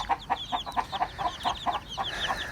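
A broody hen clucks in a quick, steady series of short notes beside her chicks, whose thin high peeping runs through the clucking at close range.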